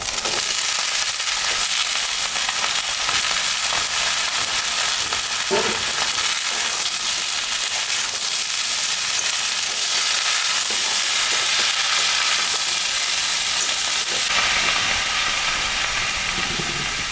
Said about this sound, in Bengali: পেঁয়াজটা ভাজা ভাজা হয়ে গেছে এখানে লতি আর একটা আলু দিয়েছি